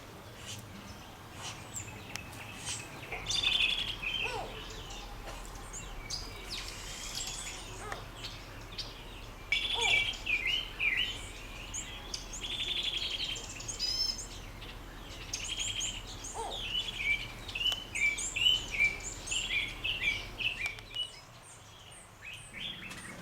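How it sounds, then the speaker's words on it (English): Plantain eater calling in Uganda, its loud harsh calls repeating in bursts over a steady low hum, with other birds chirping and tweeting around it. "This is a plantain eater. Make a great sound."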